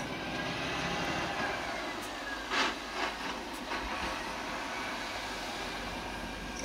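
A CSX freight train passes near Buffalo, New York, as a steady broad rumble and hiss with a few brief clanks and squeals midway.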